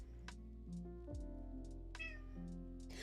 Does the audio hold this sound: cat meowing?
yes